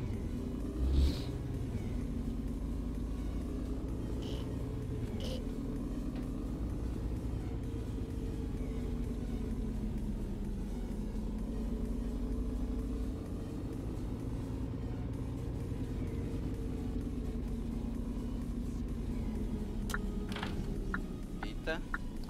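Truck engine in the On The Road driving game pulling away in first gear: a steady low rumble with rising pitch sweeps across the whole stretch, continuous and close, with speech-like murmurs over it.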